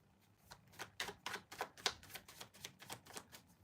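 Tarot cards shuffled by hand to draw a clarifier card, a close rhythmic series of about a dozen crisp snaps and flicks, quiet and evenly spaced with no talk.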